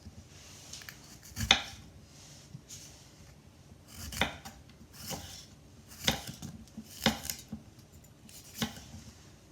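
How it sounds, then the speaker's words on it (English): A knife cuts thin slices of frittata ingredients on a board, with about six separate crisp chops spaced a second or two apart, close and fairly quiet. "I'm just going to cut them in thin slices like this"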